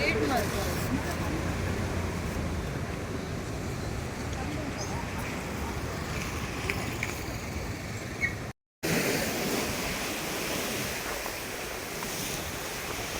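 Monsoon-season ocean surf breaks against the shore beside a seaside temple, a loud, continuous roar of crashing waves with heavy wind buffeting the microphone throughout and a brief dropout near the end.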